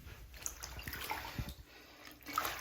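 Water running into a bathtub being refilled for soaking laundry, a close, steady splashing rush with small drips and gurgles throughout.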